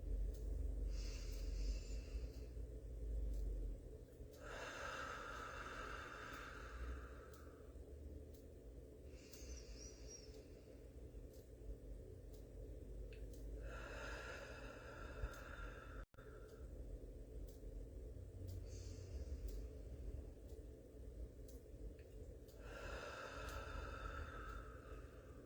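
Slow mindful breathing for children, with long deliberate inhales and exhales in a repeating cycle of about five breaths, each drawn-out rush of air close and soft against a quiet room.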